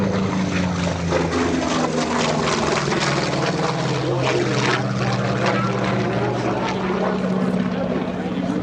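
A Corsair fighter plane flies past at an airshow with a loud, steady propeller and engine drone that holds throughout, while an announcer talks over it.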